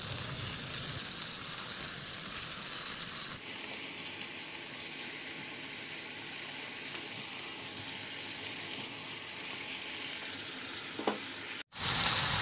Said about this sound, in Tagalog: Ihalo lang din hanggang sa mag-reduce lang din yung toyo.